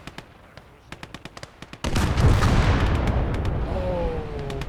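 Artillery fire in Gates of Hell: Ostfront, a PvP battle. It opens with scattered sharp distant shots, then a heavy booming blast lands and rumbles on loudly for several seconds.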